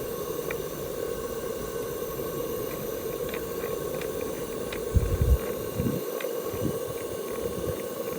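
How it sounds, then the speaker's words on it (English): Stuart model beam steam engine running at live speed on low-pressure steam of about 7 psi: a steady soft hiss with faint, regular ticking, plus a few low knocks toward the end, with no talking. "So that is running on 7 psi, which is pretty low pressure for a model steam engine, really."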